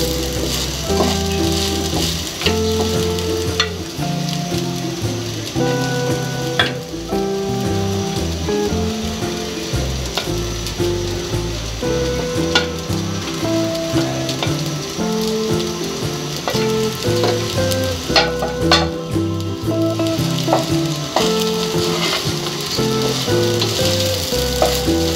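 Chicken fried rice being stir-fried in a pan: a long, steady sizzle layered with constant rattling and scraping of a utensil against metal, with periodic sharper clanks, close and loud throughout.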